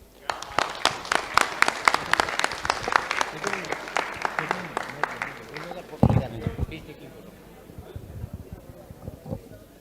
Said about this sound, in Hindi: जोरदार तालियों से इनका अभिनंदन करें।